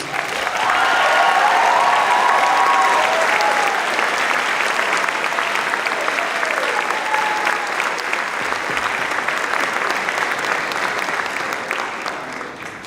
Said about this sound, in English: How about another round of applause for those seniors?